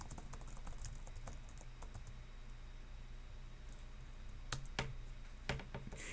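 Typing on a computer keyboard: light, irregular keystroke clicks over a faint steady hiss, with a few sharper, louder taps near the end.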